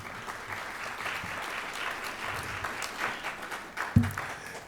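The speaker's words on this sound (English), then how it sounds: "Thank you for giving him a round of applause nonetheless." An audience applauds at a university Founder's Day convocation, with steady, moderately distant clapping throughout and a brief thump near the end.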